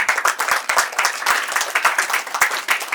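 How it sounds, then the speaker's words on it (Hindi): Loud, dense applause from a school audience welcoming students onto the stage at an Independence Day celebration, many hands clapping steadily for about three seconds with no voices. "जोरदार तालियों से स्वागत करें इनका"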